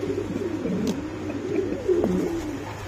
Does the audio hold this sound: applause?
no